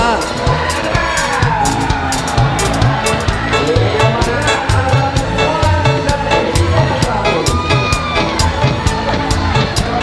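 A crowd of fans cheers and claps for a singer at a lively outdoor stage show in Muara Abab, Banyuasin. The noise is loud and continuous, and music and an announcer's voice are mixed in.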